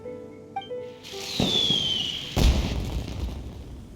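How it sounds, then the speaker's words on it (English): Fireworks in Genshin Impact: a whistling rise followed by a crackling burst, then a second, heavier boom with scattered crackle fading away, loud and close. "Did you hear that explosion? Maybe it was fireworks."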